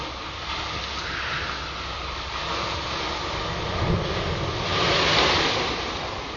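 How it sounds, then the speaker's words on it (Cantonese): Huge waves churn and crash along the shore during a storm, with strong gusting wind buffeting the microphone in a constant roaring wash that swells louder toward the end. "起極巨浪㗎啦， 風勢亦都相當猛烈。"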